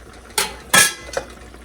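A spoon scraping and clanking against a pot of beef stew as rosemary is stirred in, three short separate clinks, close and fairly loud, with no voices.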